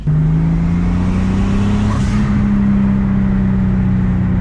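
Loud, close drone of a BMW E30's rebuilt forged turbo M50 engine under acceleration, a steady tone climbing slightly in pitch with a brief whoosh in the middle.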